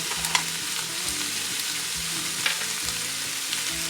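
Garlic frying in a pan while tomato sauce is being made, giving a steady, close sizzle with occasional stirring scrapes and clinks throughout, and no talking.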